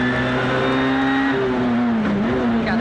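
A Peugeot 207 S2000 rally car recorded from the onboard camera during the Rallye Lyon Charbonnières stage. The engine holds a loud, steady high-revving drone with slight pitch dips as gears and throttle shift.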